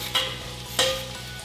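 Vegetables are stirred in a pot over heat, two scraping strokes against a faint steady sizzle, close and moderately loud, with no talking.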